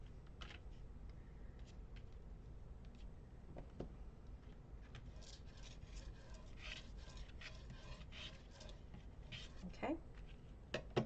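Paper on a box is burnished with a tool, producing soft repeated rubbing and scraping strokes, close and quiet, under a low background hum.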